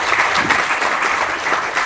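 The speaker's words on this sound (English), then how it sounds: "Let's give them a round of applause." An audience claps for veterans in a dense, steady burst of applause that fills a hall from start to end.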